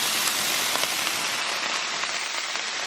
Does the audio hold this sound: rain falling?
yes